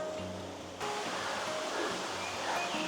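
A brook flows with a steady broadband rush, mid-distance and fairly soft, getting a little fuller partway through, with no voices.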